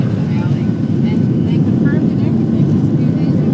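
Inside the cabin of a passenger airplane climbing during a go-around near Oakland, a constant low engine and air roar fills the whole clip at steady loudness.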